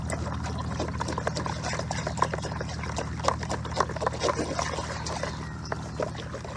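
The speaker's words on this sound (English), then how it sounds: "Right, give them a quick stir around." Nematodes mixed into water being stirred in a container for a garden treatment, giving a steady wet swishing and trickling with small splashes, close and continuous with no talking.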